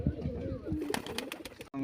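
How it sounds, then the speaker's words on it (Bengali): Several pigeons, including adults, a female and a young bird, coo in short bursts at close range while a person talks over them. "এটা ধাড়ি পায়রা, এটা মাদি, এটা বাচ্চা পায়রা"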